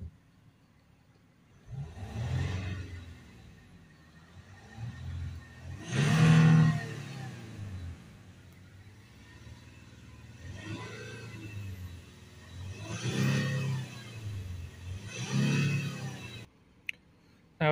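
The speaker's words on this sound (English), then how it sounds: "I'm going to start the engine again," Range Rover Sport 3.0 engine, with MAP sensor and throttle actuator faults, idling and revving in five rising and falling swells, each a loud surge that settles back to a steady hum, with no talk.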